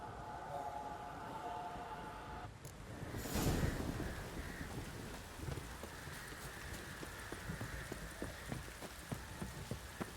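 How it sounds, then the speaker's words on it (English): Steady heavy downpour hisses throughout a Witcher 3 game scene, with a brief surge of louder noise like a thunder crack early on and scattered pattering drops over the constant rain. "This downpour's a bastard, it is."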